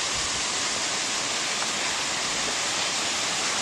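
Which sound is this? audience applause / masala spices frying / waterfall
waterfall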